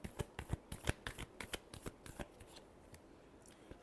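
Tarot cards are shuffled by hand in a quick run of crisp riffling snaps, close and fairly quiet, the rhythm loosening and thinning out toward the end.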